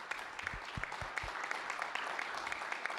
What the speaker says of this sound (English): So let's give a big round of applause to them.